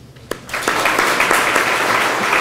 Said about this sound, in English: Please give them a round of applause as they step to the mic next.